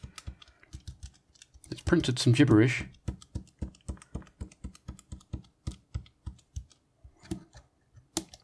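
Keys clicking on the keyboard of a Casio FX-850P pocket computer in a steady run of sharp taps, close by, with a short burst of talk early on and a brief mutter later.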